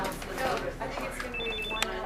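A telephone rings with short, repeated electronic tones in a lively room on concert night at Massey Hall, partly under people chatting nearby.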